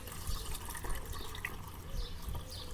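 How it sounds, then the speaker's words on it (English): Distilled water, about a litre, pouring into a car's coolant reservoir, a steady close gurgling trickle running throughout with faint drips. "I'm pouring a litre of distilled water."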